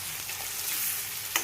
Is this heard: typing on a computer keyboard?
no